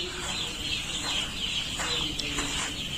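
Young chicks on a poultry farm during their third day of brooding, a steady chorus of soft, high cheeping and clucking that fills the space continuously without pause.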